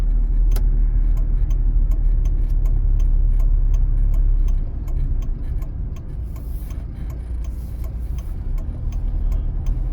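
A car's turn signal indicator ticks in a steady, regular rhythm inside the cabin during a driving test route, with the engine rumbling underneath and the ticking pausing briefly before resuming.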